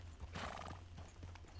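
A horse in the video game Red Dead Redemption II clip-clops along with quick hoofbeats and lets out a brief whinny, all over a low steady background rumble.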